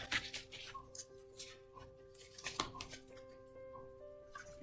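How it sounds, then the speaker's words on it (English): Oracle cards shuffled by hand at close range: a few soft, brief papery flicks and taps spaced irregularly over a quiet background hum. "Now we will do another shuffle."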